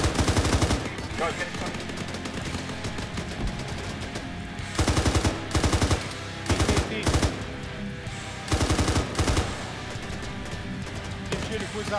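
Bursts of automatic gunfire crack in repeated clusters through a misty firefight, loud and close, with people shouting over the shots between volleys.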